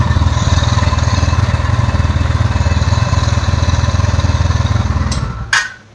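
A TVS Ntorq 125 scooter's engine runs after a self start despite a faulty one-way clutch bearing, a loud steady rhythmic putter that abruptly shuts off with a clack near the end.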